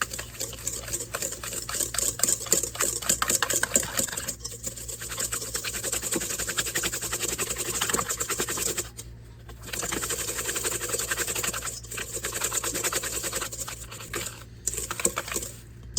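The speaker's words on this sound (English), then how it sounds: "we're going to mix everything before we add each ingredient" Pecan pie ingredients are stirred together with melted butter in a bowl, giving a continuous close scraping and whisking patter with short pauses partway through.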